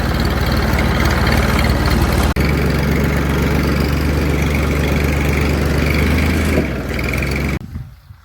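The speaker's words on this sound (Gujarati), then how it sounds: "હું આ ટ્રેક્ટર લઈને જઈ રહ્યો છું ઘરે" A tractor engine runs loudly and steadily at a low idle rumble, then cuts off near the end, leaving quiet.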